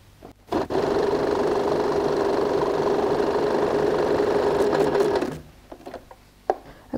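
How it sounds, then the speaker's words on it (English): A sewing machine runs an edge stitch along a bag, one continuous loud whirring run of about five seconds, followed by a few handling clicks and knocks. "I just turn around and then sew another edge stitch on the other side."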